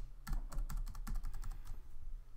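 Keys on a computer keyboard pressed in a quick, steady run of sharp clicks, close and clear, with no voices.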